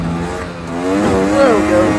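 A 2024 Ford Maverick pickup launches hard, its engine rising in pitch and getting louder as it accelerates, heard close up with a voice underneath.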